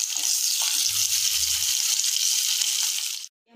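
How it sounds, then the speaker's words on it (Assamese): Potatoes fry in a pan in a steady loud sizzle with a brief rattle of stirring partway through, ending abruptly in near silence. "এতিয়া আলুখিনি অকণমান ৰঙচুৱা হোৱালৈকে ফ্ৰাই কৰিব লাগিব।"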